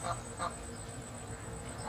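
Ducks near a village house in rural Bangladesh give a few short, faint quacks, with a soft outdoor background hum in between.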